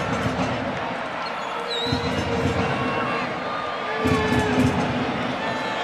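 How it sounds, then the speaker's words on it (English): Stadium crowd noise at a professional football match, a broad steady roar of thousands of spectators with swelling cheers and applause, distant and continuous, rising briefly near the end. "the crowd applauding Boyd Ogwanu over there as he battles Bessa along the far sideline"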